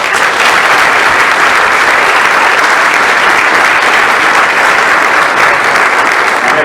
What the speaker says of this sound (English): Let's give you all a round of applause.